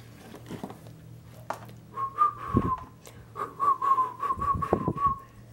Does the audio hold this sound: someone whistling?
yes